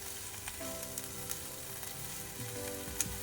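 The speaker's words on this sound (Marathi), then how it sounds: "कांदा आपल्याला मीडियम टू हाय फ्लेमवरती परतायचा आहे" Onion frying in oil over a medium-high flame for Kolhapuri chicken. A soft, steady sizzle runs continuously, with faint stirring noises and one sharp click near the end, and there is no talk.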